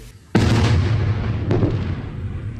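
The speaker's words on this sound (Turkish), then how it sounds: "obüslerle PYD denetimindeki bölgelere top atışı gerçekleştirdiği öğrenildi" A single loud howitzer artillery shot fired from a border security zone booms suddenly and rolls out into a long rumbling echo, with a second fainter report about a second later.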